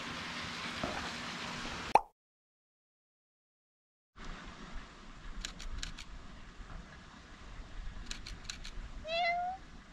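A cat gives a few soft, faint meows outdoors in a shopping street in Shimabara, Nagasaki, amid quiet ambient noise, with a brief silent gap in between.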